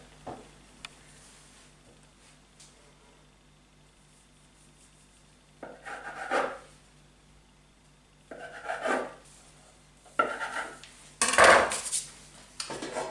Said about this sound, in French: on va couper des morceaux de 6-7 cm à peu près